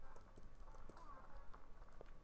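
Horse hooves galloping in the Mount and Blade Warband video game, a quick irregular clip-clop rhythm running steadily beneath game noise, with a voice talking over it.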